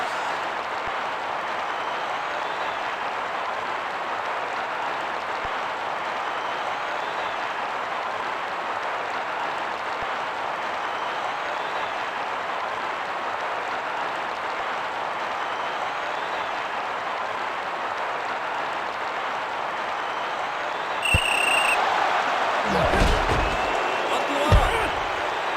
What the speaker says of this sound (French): Le stade croule sur les applaudissements.